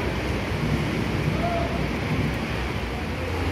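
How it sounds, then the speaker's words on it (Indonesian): Heavy rain pours down at Purabaya bus terminal, a dense, steady roar of broadband noise that fills the whole stretch without letting up. "Ini hujannya turun lagi ya, setelah tadi beberapa saat reda."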